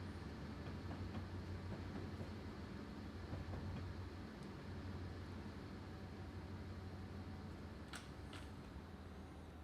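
A very long freight train with a pusher locomotive at the rear rolls past on Stevens Pass in Train Simulator 2017, a faint, steady rumble of wheels and cars with occasional soft metallic squeals.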